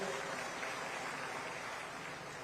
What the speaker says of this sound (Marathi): त्यांचं एकदा जोरदार टाळ्या वाजवून स्वागत करूया